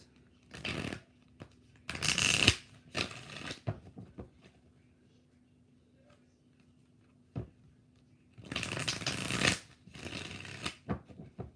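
Tarot cards being shuffled in several separate crisp riffling bursts, close and fairly loud, with quiet pauses between them.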